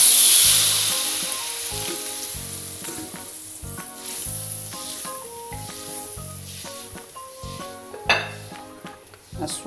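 Water poured into frying spice paste for a snapper fish-head pecak bursts into a loud, close sizzle that gradually settles, with pan clanks and utensil stirring throughout.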